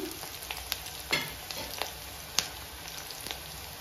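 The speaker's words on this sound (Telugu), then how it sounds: "ఆనియన్ కొంచెం కలర్ చేంజ్ అయ్యే వరకు అయితే ఫ్రై చేసుకోవాలి" Onions fry in a pan for village-style bagara rice biryani, giving a steady soft crackle with scattered brief sharp pops and scraping stir strokes, close and fairly quiet with no talk.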